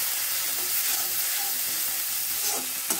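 Thick gravy for fish head kosha with potato frying in a pan, giving a dense, continuous close sizzle with faint stirring scrapes throughout, no voices.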